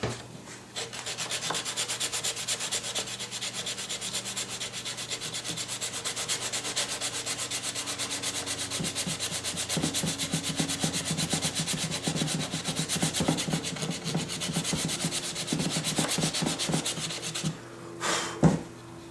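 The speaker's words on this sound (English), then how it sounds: "Sand the little nose right here" Sandpaper rubs back and forth over the small nose of a part during paint prep, a steady close scratchy hiss that turns into quicker, choppier strokes partway through.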